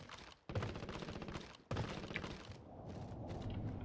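Gunfire in Call of Duty Warzone: two sharp, loud reports a second apart, each followed by a dense rattling burst, with fainter crackling shots continuing afterward.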